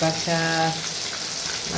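River fish fry in a pan with a steady, close hiss of hot oil, and a brief tonal hum sits over the sizzle near the start.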